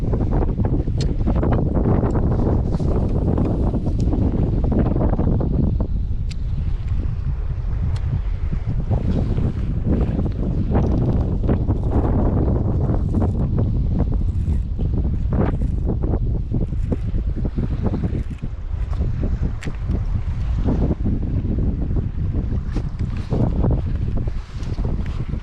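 Strong gusting wind buffets the microphone on open water from a fishing kayak, a loud continuous roar with rumbling surges and water slapping against the hull throughout.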